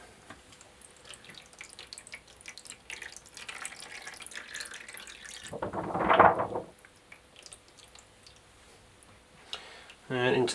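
Darkroom chemical drips and trickles off a photographic print into a tray, with a louder splashing burst in the middle and another at the end, over faint room noise and some speech.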